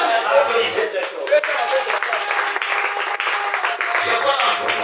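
Audience applauding loudly at a French-language gathering: dense, continuous clapping that fills the whole stretch at close range, with voices mixed in underneath.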